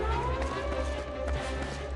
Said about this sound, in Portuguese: Houve um alarido de sirenes.